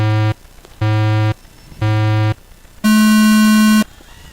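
Four electronic race-start tones at an FPV drone race: three identical low buzzing beeps evenly spaced, then a longer, higher final tone, loud and clear.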